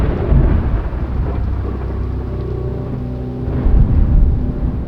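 Thunderstorm with heavy rain over Mount Baker: a steady, loud downpour roars throughout while deep thunder rumbles swell near the start and again toward the end.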